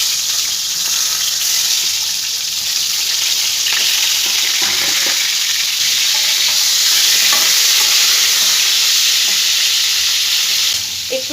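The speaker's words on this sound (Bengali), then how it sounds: "তেলটা আমার গরমও হয়ে গেছে। পটলগুলো সব আমি ভেজে নেব ভালো করে।" Sliced pointed gourd (potol) frying in hot white oil in a pan, a loud steady sizzle running throughout with occasional stirring clatter, no talk.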